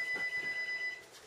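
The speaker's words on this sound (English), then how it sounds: "It's your fax machine. That's a phone." A phone ringing indoors with a steady electronic tone, loud and close, lasting about a second before trailing off, with no talk over it.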